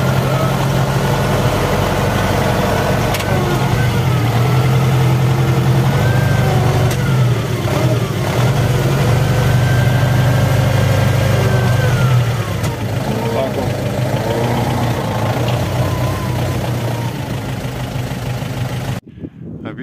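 A tractor engine runs steadily and loud while its front dozer blade turns on a hydraulic rotation mount, a constant low drone with shifting whining tones on top, cutting off abruptly at the very end.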